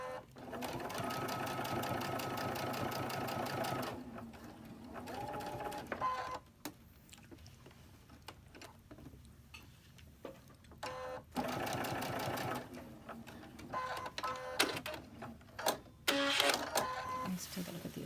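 A sewing machine stitching a red mesh bag runs in steady whirring bursts, stopping and starting several times, with a few clicks and brief pauses between runs.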